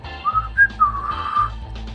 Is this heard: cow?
no